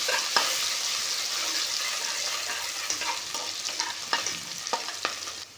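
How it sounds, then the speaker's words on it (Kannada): Onions sizzle in hot oil in a pan already holding mustard seeds, with a continuous bright hiss broken by the scrape and clatter of a spoon stirring now and then. "ಇದಕ್ಕೆ ನಾನು ಈರುಳ್ಳಿ ಹಾಕ್ಕೊತಾ ಇದ್ದೀನಿ. ಚೆನ್ನಾಗಿ ಫ್ರೈ ಮಾಡ್ಕೊಳ್ಳೋಣ."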